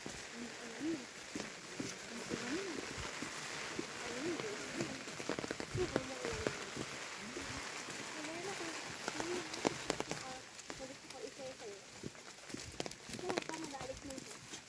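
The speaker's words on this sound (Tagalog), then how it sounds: "ulan na" Light rain patters steadily outdoors on a banana and ube farm, a soft continuous hiss of drops with faint taps, heard under close, chatty voices talking throughout.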